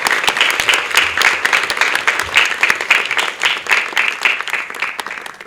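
Sustained audience applause fills a theatre hall at an event held in a state musical drama theatre, with dense, steady clapping throughout and no pause.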